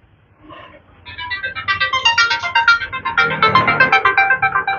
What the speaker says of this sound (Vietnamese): Mình xin lỗi nhá, mình có cuộc điện thoại